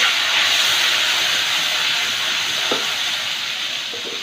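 Tomato, ginger and green chilli paste is added to hot oil with fried garam masala for niramish matar paneer, producing a loud, steady hiss and sizzle that slowly fades, with a brief utensil knock.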